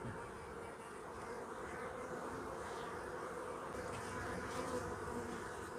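Honey bees buzz around an opened beehive during a swarm check: a continuous, faint, droning hum from many bees, steady throughout with no talk.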